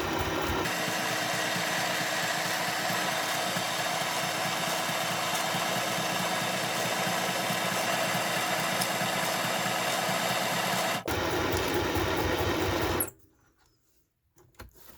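A sewing machine runs a zigzag stitch through fabric for a soft cover junk journal, a steady close mechanical whir for about thirteen seconds that then cuts off into near silence.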